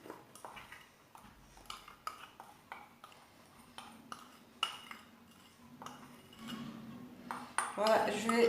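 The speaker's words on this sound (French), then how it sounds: "je vais d'abord commencer par mélanger le beurre et le sucre" A utensil mixes butter and sugar in a bowl for Les Russes biscuits, making a steady run of light clinks and scrapes against the bowl that builds to a denser stir at the end.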